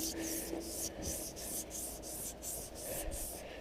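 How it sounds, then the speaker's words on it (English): Rhythmic back-and-forth scrubbing of wet sandpaper on a surface, about a dozen quick strokes, close and steady. "Then apply the sandpaper to the surface"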